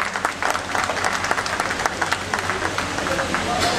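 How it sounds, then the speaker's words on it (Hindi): An audience claps at a ceremony on environment and sustainability as a memento is presented, a loud, busy burst of many hands applauding continuously with faint voices underneath. "आप सहयोग करेंगे तालियां बजाकर"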